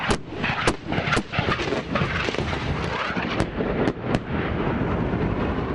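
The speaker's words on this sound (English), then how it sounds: "There's incoming fire right now." Incoming gunfire in combat on a hillside, with Apache helicopters firing rockets: a dense barrage of sharp cracks and heavy booms repeating irregularly over a continuous rumbling roar, loud and close.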